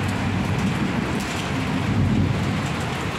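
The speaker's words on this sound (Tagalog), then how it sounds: "Ngayon itong time na to ang lakas ng ulan." Heavy rain pours in Kuwait in a dense, steady wash with a low rumble of thunder underneath, loud and constant with no voices.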